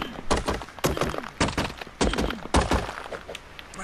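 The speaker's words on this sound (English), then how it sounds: "Let's chop up a little bit of flint and stone and take back to base." Repeated chopping strikes on flint and stone in ARK: Survival Evolved, about seven sharp thunking hits at an irregular rhythm, close and distinct with nothing else behind them.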